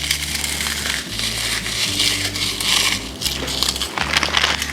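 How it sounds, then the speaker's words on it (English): A sleeve of Ritz crackers is crushed by hand, a loud continuous crunching and crackling with brief pauses, up close and with no talking. "I have a sleeve of Ritz Crackers. I'm just gonna crush these all up and sprinkle them on top."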